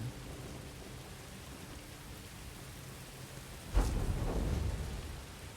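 Steady rain hisses in the Jedi: Fallen Order video game, then a sudden loud thunderclap breaks in and rumbles away under the continuing downpour.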